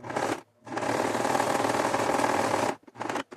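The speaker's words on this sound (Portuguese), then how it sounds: "vamos aplicar o nosso zigue-zague de 3 pontinhos" Domestic sewing machine running a three-step zigzag stitch at tension 4, width 4, length 2 on a decorative bias-bound hem; a steady close whirring burst of about two and a half seconds, with short stops and starts at either end.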